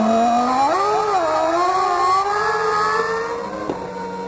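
Damon Hill's 1994 Formula 1 car screams past at high revs, a loud, rising and falling engine whine that swells and then fades slightly as it crosses the finish line.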